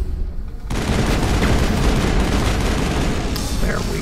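Pistol gunfire in Mass Effect bursts in suddenly after a quieter moment, then continues as a loud, dense stream of rapid shots and combat noise.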